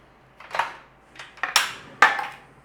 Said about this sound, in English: Let's get a pan on.